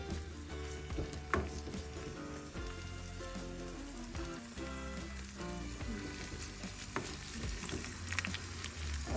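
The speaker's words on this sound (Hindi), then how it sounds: "प्रॉन को मीडियम साइज में ही फ्राई कीजिएगा।" Prawns frying in a pan for prawn malai curry, a moderate steady sizzle with a few sharper pops and crackles, no talking.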